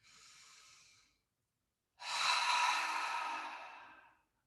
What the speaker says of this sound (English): Nice big inhale, exhale,